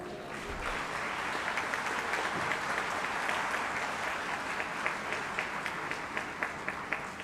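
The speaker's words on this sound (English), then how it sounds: "Should we have a round of applause for the winners?" An audience at an institute foundation day ceremony gives a sustained round of applause for award winners, a dense even clatter of many hands that grows slightly sharper toward the end.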